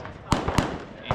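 Two sharp gunshots from a Kel-Tec KP-9 pistol-caliber carbine crack at an outdoor long-distance shooting stage, loud and close, with a fainter pop following.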